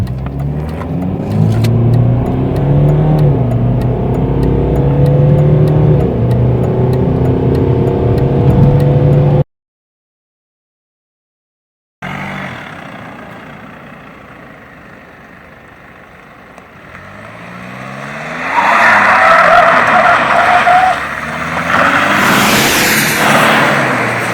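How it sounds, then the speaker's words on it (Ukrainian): A BMW 320 diesel engine revving and accelerating loudly from inside the car, rising in pitch, then a short silence and another hard acceleration with road roar. "Звук реально дізеля трохи вражає"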